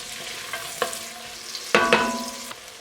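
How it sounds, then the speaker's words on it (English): Onions frying in melted butter in a pan for mushroom soup, stirred with a utensil: a soft steady sizzle with a few scraping stir strokes, the loudest pair near the end, and no talking. "I'm just going to go ahead and add our onions. Stir those up a little bit until we get some color on them."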